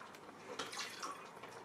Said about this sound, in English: But pour some apple juice in there.